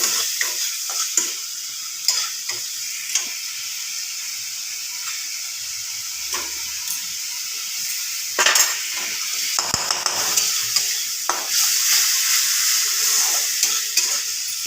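Spices sizzle and fry in a pan for katla fish curry, stirred with a utensil that scrapes and clinks steadily; a constant hiss runs underneath with a louder burst of sizzling midway.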